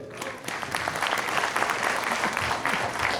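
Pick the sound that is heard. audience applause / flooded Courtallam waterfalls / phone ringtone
audience applause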